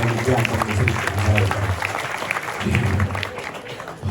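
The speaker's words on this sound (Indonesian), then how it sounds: "Semua tepuk tangan dulu disini" Crowd applause at a Balinese temple ceremony at Pura Dalem Petulu, clapping mixed with loud crowd noise and voices, with a sustained low tonal drone underneath.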